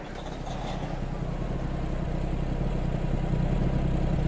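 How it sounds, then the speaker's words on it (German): AW 362 cabover truck engine in Farming Simulator 22, starting and settling into a steady low idle rumble that grows slightly louder and holds, with no talk over it. "Hat einen sehr schönen Motorsound im Stand."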